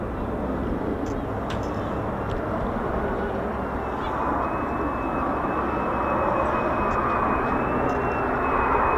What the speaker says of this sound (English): Don't think I've seen an F-35 point at me on landing like that before.